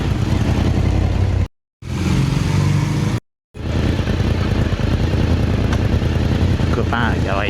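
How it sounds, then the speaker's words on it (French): Loud motorcycle engines roar past close by at a classic car gathering in Bletterans, France, a steady rumbling drone broken by two brief dropouts, with a faint voice underneath. "Et les motos qui arrivent."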